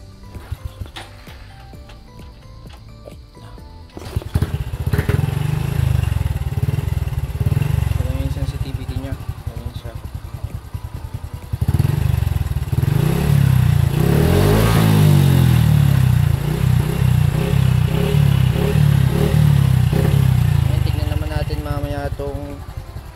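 A stock motorcycle throttle being tested, the engine revved hard in two long, loud bursts after a quieter start, with a voice talking over parts of it.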